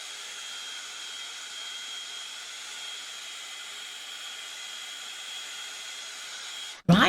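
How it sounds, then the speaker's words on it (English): A heat gun blowing steadily as it melts embossing powder on a driftwood sign, giving a continuous close airy roar with a sharp clunk at the very end. "Let's just get this heat gun on it now and see."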